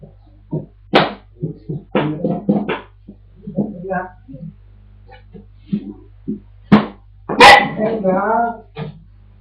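A dog barks and yips in short, irregular bursts indoors, close and fairly loud, over a low steady hum, with a few whimpering sounds between the barks.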